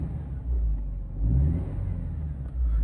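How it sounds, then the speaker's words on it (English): A 2008 Mercedes CLC 180 Kompressor engine idles low and rumbling, then rises in a couple of brief revs before settling back, close and steady. "I'll give it a rev quickly so you can hear the engine."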